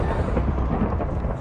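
Low rumbling thunder rolls continuously in the blocky sandbox game Minecraft, a dense, steady roar spanning the whole moment with no speech over it.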